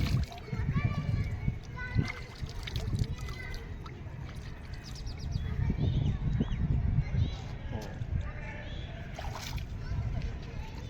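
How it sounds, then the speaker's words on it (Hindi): Hands and face washed in the water of Brahma Sarovar lake in Kurukshetra, with soft splashing and sloshing beneath steady nearby talk and children's voices in an outdoor crowd. "हाथ धो लेते हैं और अपना मुख धो लेते हैं"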